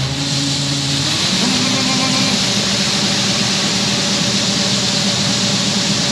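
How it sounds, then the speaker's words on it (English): A John Deere 9670 combine runs during an Iowa corn harvest with a suspected broken chopper shaft, giving a loud, dense mechanical roar with a shifting tonal hum near the start before settling into a constant grinding drone. "Sounds like the 9670's busted."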